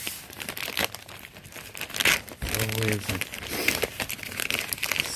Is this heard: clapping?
no